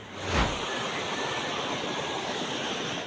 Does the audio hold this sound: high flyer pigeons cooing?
no